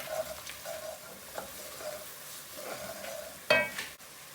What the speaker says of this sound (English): I'll give this a mix.